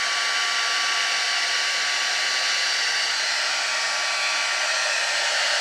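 A heat embossing gun blows a steady, loud stream of hot air, like a hair dryer, running close and unbroken with no voices.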